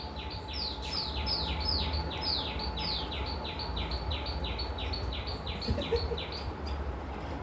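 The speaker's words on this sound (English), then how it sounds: "Birds are such a great gift to the world." Birds sing in a quick, repeated run of bright chirps that continues evenly over a steady outdoor background hum, with no talking.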